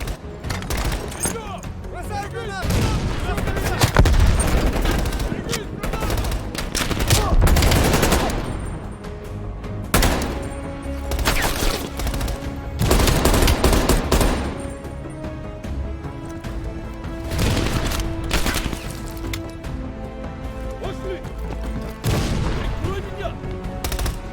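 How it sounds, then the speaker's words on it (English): Dense gunfire fills a combat scene in the video game Call of Duty: Black Ops Cold War, with rapid machine-gun bursts and booming shots in repeated loud waves, and voices occasionally heard beneath it. "Sal, take out that MG."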